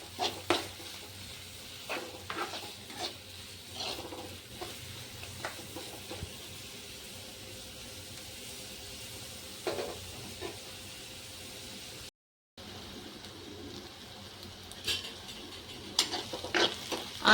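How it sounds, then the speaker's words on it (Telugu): Finely chopped onions fry in oil toward light brown, a soft steady sizzle with occasional stirring scrapes and light utensil clicks, close by, with a brief dropout near the end. "ఆయిల్లోనే సన్నగా తరిగి పెట్టుకున్న ఆనియన్స్ వేసుకున్నాము. ఈ ఆనియన్ లైట్ బ్రౌన్ కలర్ వచ్చేంత వరకు వేయించుకుందాము."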